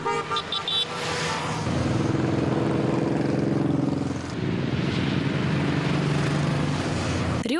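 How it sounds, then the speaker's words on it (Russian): Many motorcycle engines roaring together at night near a riverside fortress, a dense continuous rumble with a brief horn toot at the start and engines revving past. "Рев моторов и гул покрышек."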